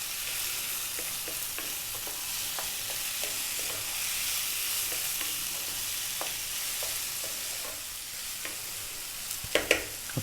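Channa rice fries on high heat in a pan, a steady loud sizzle with frequent scraping stirs throughout and a few sharper clatters near the end, with no talking.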